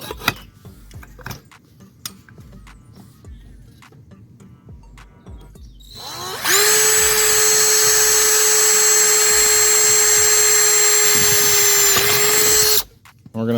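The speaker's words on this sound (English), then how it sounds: "We're going to drill a hole" A power drill whirs loudly and steadily for several seconds, drilling a pilot hole in an umbrella part, after some quieter handling noises, then stops abruptly, close up.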